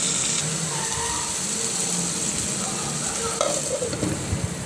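Chopped onion and tomato sauté in hot oil in a pan, giving a steady close sizzle with stirring scrapes and clinks near the end and no voices.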